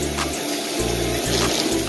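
Hot water runs from a bathroom tap for washing during a morning routine, a steady, close rushing stream that continues evenly throughout with no talking.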